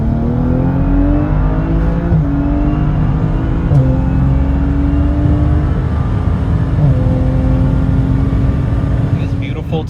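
A BMW with an N55 engine in a sleeper build accelerates at full throttle from about 40 mph, a loud, sustained engine and exhaust note rising steadily in pitch, heard from inside the car.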